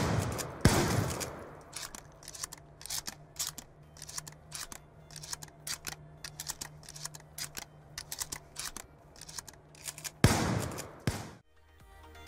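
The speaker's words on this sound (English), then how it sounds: "that was KSG shotgun" KSG shotgun firing in Call of Duty Black Ops 2, a series of sharp gunshot reports with mechanical pump clicks between them, most prominent near the start and around ten seconds, with quieter rapid clicks throughout.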